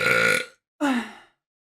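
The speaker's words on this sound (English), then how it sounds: "Maybe I just have to burp." Two loud, close burps in quick succession, the first a long rumbling belch and the second shorter with a falling pitch, separated by a brief silence.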